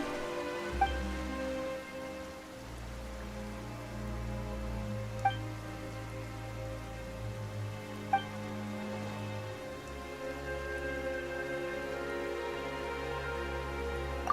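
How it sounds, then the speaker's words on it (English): Steady rain falls in a Genshin Impact scene, a soft continuous patter with a few sharper drop-like taps and a low droning background underneath, no voices. "Why is it raining all of a sudden?"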